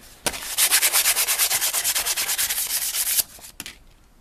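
Fast, rhythmic rasping strokes of sanding rust off a metal blade for a letter opener knife, steady for about three seconds, then a couple of sharp taps.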